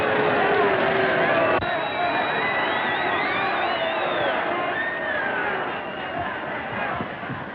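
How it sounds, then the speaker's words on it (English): A boxing crowd roars and cheers around the ring in a 1934 film, a loud wash of voices with whoops and shouts that swells early then holds steady before easing slightly. "Why is that crowd a-frothin' and a-fronin'?"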